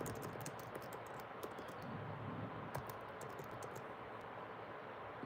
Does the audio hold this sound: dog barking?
no